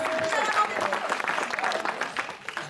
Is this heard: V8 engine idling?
no